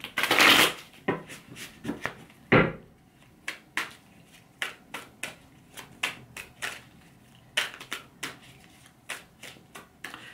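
A tarot card deck being shuffled by hand: an opening loud riffle, then a long series of quick, crisp card flicks and slaps at close range, with no voices.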